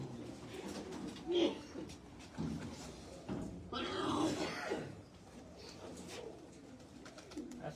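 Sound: pigeons cooing

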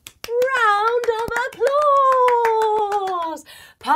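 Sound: children clapping, a round of applause

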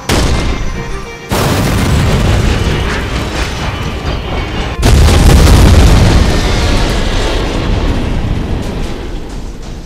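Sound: tank cannons firing and explosions in an animation

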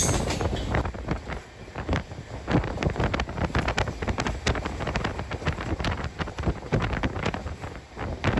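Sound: Rajkot to Ahmedabad Intercity Express train running

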